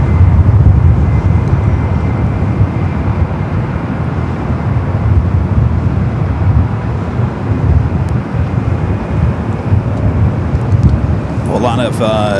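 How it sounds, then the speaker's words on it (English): A JetBlue Airbus A321 airliner at Los Angeles airport gives a loud, rumbling engine roar mixed with wind noise on the microphone, and a voice comes in near the end. "JetBlue Flight 924 heading to JFK. It's an A321"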